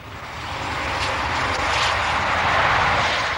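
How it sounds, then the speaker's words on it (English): Intercity 125 high-speed diesel express train passing, a steady loud roar of engine and rushing air that slowly builds and holds for a few seconds. "The world's fastest diesel express, the Intercity 125, the high-speed train."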